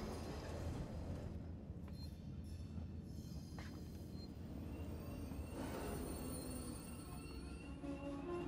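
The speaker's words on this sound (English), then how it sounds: "we're gonna crouch down here and wait for the Sci-Med Tower train" A train pulling into a station in the sci-fi survival game Alien Isolation, heard as a faint, steady rumble of rolling rail noise with soft metallic squeals drifting through, continuous and distant with no voices.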